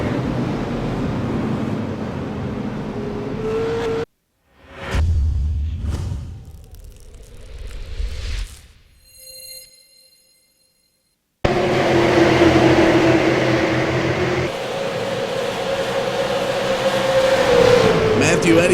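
Stock race cars racing at Lucas Oil Raceway during a caution, with a steady roar of engines and wind buffeting the microphone, broken by a sudden drop to near silence and scattered tones before the loud engine noise returns.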